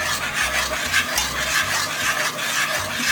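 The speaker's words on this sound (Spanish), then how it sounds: "Ahora voy a cambiar para comenzar a revolver con el batidor y vamos a estar agregando la leche por pocos" Milk being whisked into a béchamel sauce in a pan, a steady scraping stir with soft rhythmic strokes of the whisk against the metal, close and continuous with no voices.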